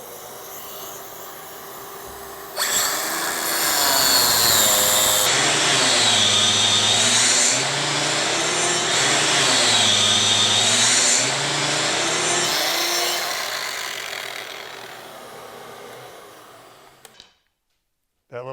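Cordless Dremel Ultra Saw flush cutting wooden base molding, a loud high buzzing whine that rises and falls in pitch as the blade bites and eases off, then winds down and stops.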